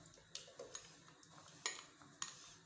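Cream being mixed in a metal pot, heard as a handful of quiet, sharp metallic clinks and scrapes spaced irregularly, close by in a hushed kitchen.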